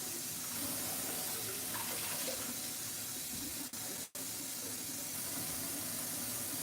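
Tap water runs in a steady, soft stream as pieces of cod are rinsed under it in a kitchen sink, with no talking.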